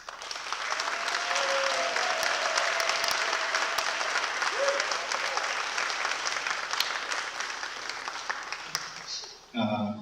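An audience at a museum artist's talk on contemporary Tibetan art applauds to welcome artist Tsherin Sherpa, with steady dense clapping that carries on for several seconds before fading out, followed by a brief sound at the very end.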